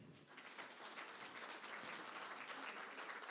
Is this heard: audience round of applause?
yes